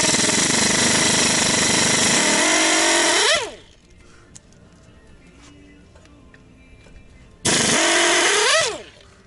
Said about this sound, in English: Use the old butterfly impact. It's a pretty nice tool to have for shit like this.